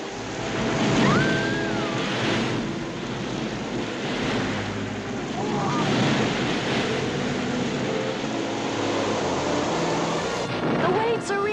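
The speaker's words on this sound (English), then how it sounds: "The waves are reaching us." Ocean waves surging and rolling in a dramatized Noah's Ark storm scene, a loud continuous wash of surf with wind noise throughout, and voices talking over the roar.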